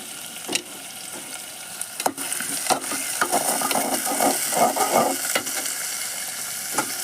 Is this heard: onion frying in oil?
yes